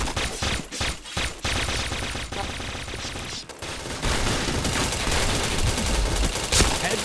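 Rapid gunfire from a handgun in a first-person shooter video game, with loud, close repeated shots in dense bursts and a voice speaking over the shooting.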